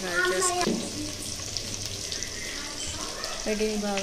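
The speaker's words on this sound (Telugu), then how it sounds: "అల్లం వెల్లుల్లి పేస్ట్ వేసుకోవాలి." Ginger garlic paste drops into a hot pan for a curry and fries with a low, steady sizzle under a voice that talks at the start and again at the end.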